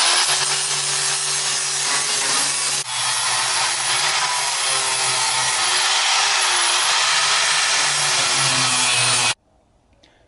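A sanding disc grinder grinds a metal part from a Kombi van, a loud continuous whining rasp with a brief dip near the start, then cutting off abruptly before the end.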